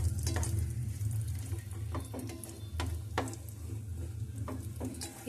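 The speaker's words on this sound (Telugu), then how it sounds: "సిమ్లో పెట్టి వేయించాలి" Rava fries in ghee on a low flame for rava kesari, a gentle continuous sizzle with repeated scraping strokes of a spoon stirring it around the pan.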